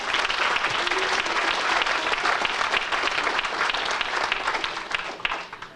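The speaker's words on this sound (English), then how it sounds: "That deserves an applause." A crowd at a civic bridge milestone ceremony claps warmly and steadily for several seconds; the applause stays dense and close before it tapers off near the end.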